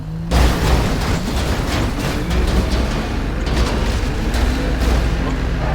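An airplane explodes in a video game, a loud, sustained rumbling blast that roars and crackles continuously, dense and booming, like a large explosion with debris and fire.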